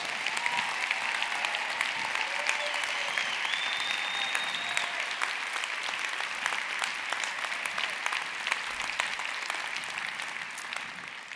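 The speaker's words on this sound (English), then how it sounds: "can we give a round of applause to Ashley and Leland and Danielle for sharing their stories?" Sustained audience applause at a company founder's talk, a dense wash of many hands clapping continuously and evenly for over ten seconds, with faint whoops rising briefly through it.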